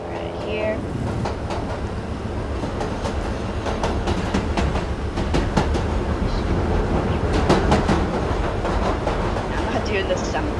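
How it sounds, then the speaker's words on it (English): Cargo train in the Roblox game Jailbreak, a continuous rumbling roll with rhythmic clickety-clack along the rails, played steadily throughout. "we're gonna make our way over to the old cargo train"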